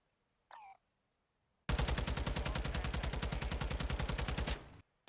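A TAQ 56 assault rifle in a video game fires one sustained fully automatic burst of about three seconds, rapid and loud, after a brief short sound and a moment of quiet.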